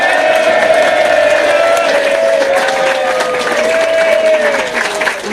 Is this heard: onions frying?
no